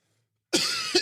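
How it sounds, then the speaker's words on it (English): A single close, harsh cough from someone who is getting sick bursts out of silence, followed by a second shorter cough. "I may cough a bit"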